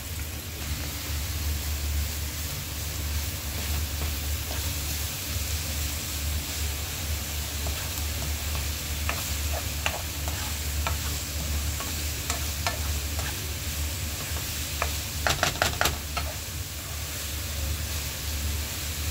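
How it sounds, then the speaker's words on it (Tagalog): Onion and enoki mushrooms sauté in a pan, a steady close sizzle with intermittent spatula scrapes and taps, including a quick cluster of stirring clicks near the end, with a constant low hum beneath. "gisa-gisa lang natin saglit yung isasahog natin na onion saka yung enoki"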